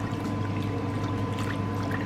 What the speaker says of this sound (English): I'm making a splash over here because I put a lot of water on here.